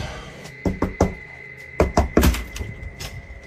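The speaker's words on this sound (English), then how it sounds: "the knocking starts at the other side of the room" Someone raps on a front door in two clusters of sharp, hollow knocks, the second group louder and quicker, with fainter taps afterward over a faint steady background tone.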